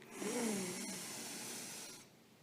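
A slow, breathy inhalation through the nose during a box breathing exercise, a soft airy rush lasting about two seconds that ends abruptly, heard close and alone.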